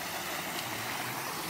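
Water running full in an irrigation canal of the Lower Bhavani Project beside farmland near Erode, a steady close rush of flowing water with no voices.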